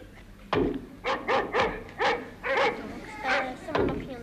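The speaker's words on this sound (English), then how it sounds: "So we had a wild dog before, and now a domesticated dog." A domesticated dog barks about eight times in short, sharp bursts, played as a sound demonstration during a 1977 Christmas lecture on space. The barks are loud and close, with a hall hum underneath.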